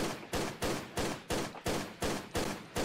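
Evenly spaced gunshots fire in steady rhythm, about ten sharp reports over three seconds, each with a quick decaying tail, shooting enemies in a Tomb Raider Level Editor game level (Coyote Creek); no talk.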